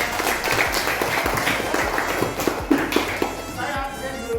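Audience applause at a gathering, a steady patter of many hands clapping for about four seconds with a few sharper claps near the end, fairly close and loud.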